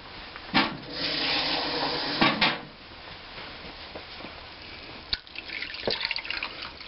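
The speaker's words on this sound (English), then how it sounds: "I'm going to put about a cup of water in there." About a cup and a half of water is poured into a cooking pot for a smoked sausage and chicken etouffee, heard as a few short splashing pours and drips, close and fairly quiet, with no talk.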